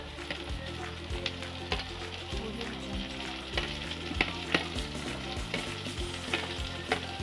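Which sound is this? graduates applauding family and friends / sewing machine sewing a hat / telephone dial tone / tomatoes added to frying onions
tomatoes added to frying onions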